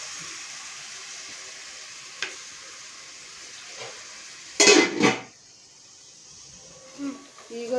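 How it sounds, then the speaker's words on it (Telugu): Onions frying in a pan for mutton paya soup give a faint, steady sizzle close by. It is broken by a couple of louder scraping bursts from stirring and some light clinks near the end. "చూడండి ఉల్లిపాయలు అయితే చక్కగా వేగుతూనే ఉన్నాయి"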